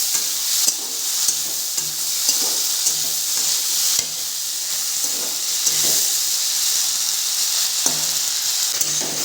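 Eel pieces fry in very hot oil with a loud, constant hissing sizzle, and occasional faint clicks and pops cut through the steady crackle.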